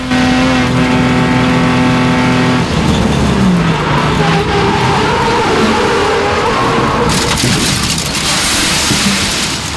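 A Ford Falcon race car engine drones at high revs on a track, then the pitch drops as tires scrub and skid in a spin, with continuous loud engine and road noise throughout.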